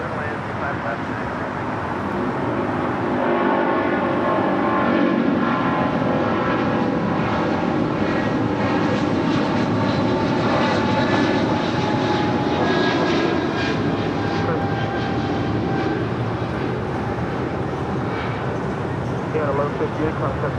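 An Airbus airliner on final approach to runway 25 left at LAX, a continuous loud jet engine roar that swells and holds steady with a broad rumble, heard at a distance.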